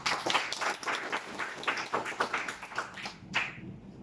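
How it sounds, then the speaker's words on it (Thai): Audience members at a health product talk clap together, a brief burst of light, fairly quick hand claps at moderate distance that thins out toward the end, with no speech over it. "ปรบมือให้กัน"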